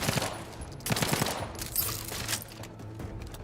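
Gunfire in Outer Worlds 2, rapid volleys of shots in uneven bursts, moderately loud against a game background with no talk.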